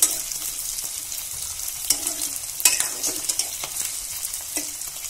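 Onions and green chillies fry in a pan with a soft, continuous sizzle, broken by a few brief scraping stirs.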